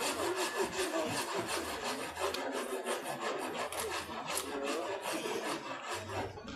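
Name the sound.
filing a handmade wooden cricket bat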